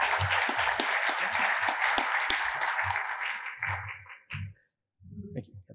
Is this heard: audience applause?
yes